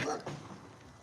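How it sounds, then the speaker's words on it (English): A dog barks once, short and sharp, from a junkyard, with a brief yip right after. It sounds fairly close and rings out over an open, noisy background. "It's a whole dog over there."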